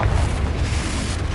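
A Confringo fire-blast spell exploding in the video game Hogwarts Legacy, a short dense booming burst with heavy low rumble, loud and close, sounding alone.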